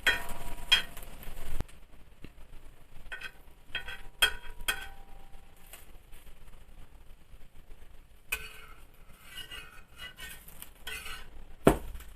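Bread omelette being turned over in a frying pan, with quiet scrapes and clinks of a spatula against the pan, a few sharper knocks, and faint sizzling underneath, no talking.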